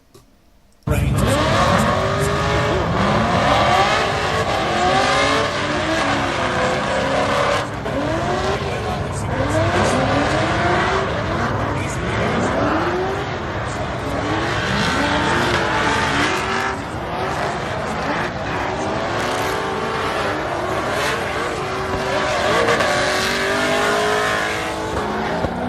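Loud racing engines of a big Dodge Charger and other hot rods at an LS Fest East event, with repeated revving sweeps, tire squeal and roaring passes running steadily throughout, close and dense, with no clear speech.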